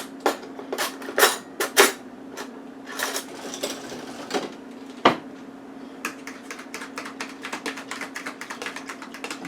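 A whisk or fork clatters rapidly against a bowl while beating eggs with a little milk, producing irregular bursts of sharp clicking taps with a brief pause partway through.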